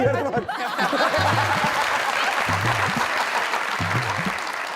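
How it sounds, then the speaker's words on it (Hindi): Studio audience applause on a comedy talk show, a dense wash of clapping with faint chuckles mixed in and brief bursts of voices underneath, fairly loud and steady throughout. "तालियां बजा रही हो?"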